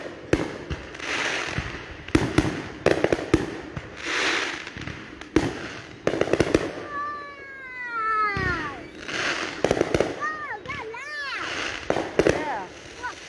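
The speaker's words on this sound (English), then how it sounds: "they spend a lot of money on the fireworks" Fourth of July fireworks explode in a series of sharp cracks and booms, some with whistling, crackling trails, spread out at a moderate distance at night while people talk quietly nearby.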